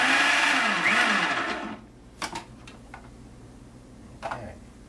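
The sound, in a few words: mixing salt, yeast and liquid for pretzel dough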